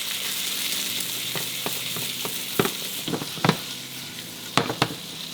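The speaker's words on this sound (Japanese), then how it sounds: "バターを加えて野菜ですね、 一緒に漬け込んでおいた野菜をソテーしていきます" Vegetables sizzle steadily in butter in a hot frying pan, with occasional sharp scrapes and clicks of a utensil stirring, close up and without talk.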